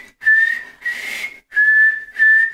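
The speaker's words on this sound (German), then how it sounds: "Mama, ich kann pfeifen." A child whistles in four sustained, steady-pitched notes with short breaks between them, the second breathier and wavering; clear and close, with no talking.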